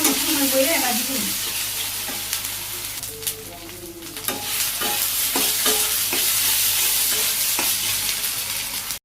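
Vegetables stir-fry with turmeric, salt and a little sugar, a steady close sizzle with scraping stirs throughout, a voice briefly heard over the pan.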